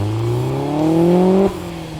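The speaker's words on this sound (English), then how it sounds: "And that homemade exhaust kit sounds great, wouldn't you agree?" A 1993 Toyota MR2 GTS turbocharged engine revs hard through a homemade exhaust, its note rising steadily in pitch for about a second and a half, then dropping off abruptly as the throttle lifts.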